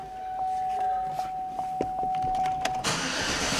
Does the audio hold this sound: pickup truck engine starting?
yes